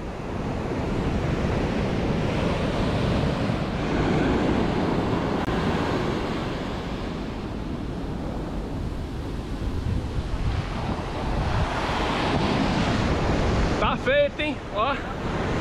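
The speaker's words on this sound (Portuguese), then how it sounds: "o mar hoje não tá brincadeira não" Rough ocean surf roars continuously at a busy stretch of Rio de Janeiro beach, loud and close with heavy wind buffeting the microphone, and a brief burst of other noise near the end.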